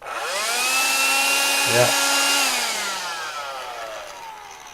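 A Karcher window vac with new 18650 battery cells spins up into a rising motor whine and holds a steady tone. It then slowly winds down and fades. A voice briefly speaks over it midway.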